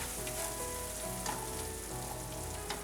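Red chili and garam masala are stirred into bread pieces in a hot pan, a soft continuous sizzle of frying with faint scraping from the stirring, no voices.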